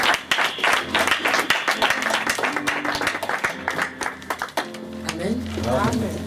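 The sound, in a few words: church congregation applauding the Lord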